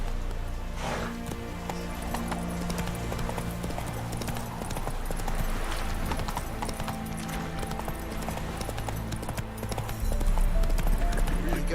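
Hooves of the horse Roach clip-clopping at a gallop in The Witcher 3, a fast continuous rhythm under a steady game soundtrack, with a voice talking over it.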